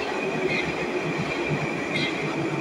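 A train at a Moscow metro station on the Troitskaya line makes a loud, continuous rolling rumble with a sustained high whine and faint squeals of wheels.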